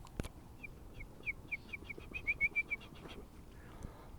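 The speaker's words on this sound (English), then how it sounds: "That's how they sound like when they're chirping." On Cowles Mountain summit, a bird repeats a rapid series of short, clear chirps that speed up and brighten toward the middle, over faint outdoor background noise.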